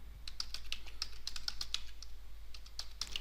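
Fast, uneven keystrokes tap on a computer keyboard while headings are typed into a table in Microsoft Word, close and crisp over a steady low electrical hum.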